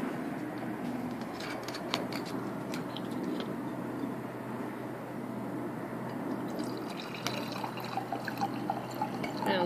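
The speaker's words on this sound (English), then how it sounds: "So we're going to pour this out." Homemade green wine poured out of a glass, a quiet liquid trickle and splash with faint drips and light clinks, heard close and soft with no talking.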